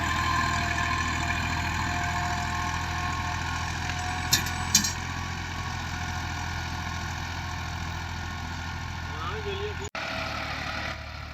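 A 260 tractor engine runs at a steady drone while pulling a cotton planter, a continuous, even rumble close by with faint clicks over it.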